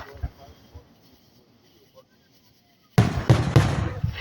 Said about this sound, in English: Those are the biggest fireworks I've ever seen